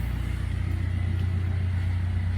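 A parked car's engine warming up, a steady close idle with a deep, even rumble and a regular low throb, with no talk.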